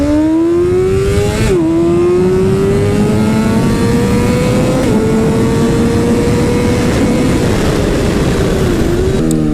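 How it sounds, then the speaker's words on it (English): A Honda CB super sport motorcycle fitted with a Two Brothers exhaust is revved hard nearby. The loud engine note climbs, dips at gear changes and climbs again, with a steady raspy roar throughout. "This has Two Brothers exhaust, and I think it sounds wicked good."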